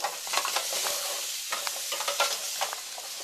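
Carrots and onions sear in a hot pan for beef burgundy, a steady close sizzle crackling throughout with occasional stirring scrapes and clatter.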